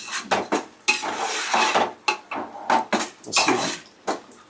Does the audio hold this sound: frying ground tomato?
yes